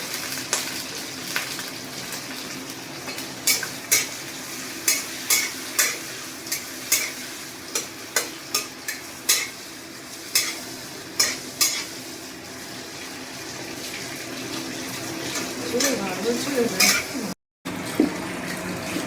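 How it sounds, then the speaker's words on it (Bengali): A spoon stirs chicken curry with green chilli in a pan over a steady background sizzle, with regular scraping knocks against the pan recurring every second or so, then a brief cut and a wetter bubbling at the end. "তারপরে আমি এটা একটু ভালো করে নাড়বো।"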